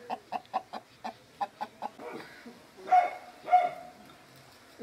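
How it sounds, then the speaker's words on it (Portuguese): A frightened chicken on a small rural farm clucks in a quick, regular run of sharp notes, then breaks into a couple of louder, drawn-out squawks, close by with outdoor background. "tem uma galinha assustada ali, ó."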